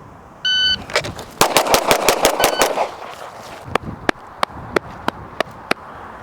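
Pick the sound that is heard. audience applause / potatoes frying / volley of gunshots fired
volley of gunshots fired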